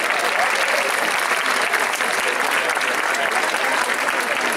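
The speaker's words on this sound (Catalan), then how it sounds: "Un fort aplaudiment per a tots ells." Loud, steady applause from an audience at a children's traditional dance gathering in Benicarló, honouring the accompanying musicians; dense clapping fills the whole stretch without pause and with no one speaking over it.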